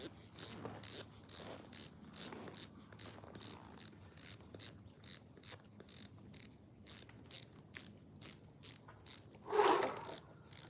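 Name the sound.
ratcheting snowboard binding strap tight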